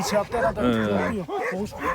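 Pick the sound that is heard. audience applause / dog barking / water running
dog barking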